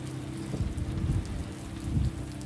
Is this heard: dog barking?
no